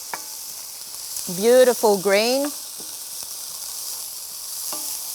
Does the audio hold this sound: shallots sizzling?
yes